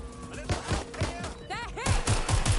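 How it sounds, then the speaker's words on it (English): Rapid video game gunfire pops in quick bursts of sharp, thudding shots, with a voice shouting over the fusillade. "Taking fire!"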